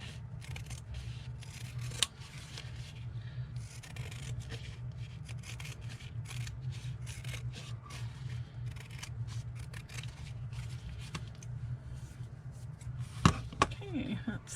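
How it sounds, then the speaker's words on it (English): Scissors snip steadily through vintage tea towel fabric, a soft continuous rustle of cutting close to the ear with occasional sharper clicks and a low background hum. "now I'll just trim the fabric."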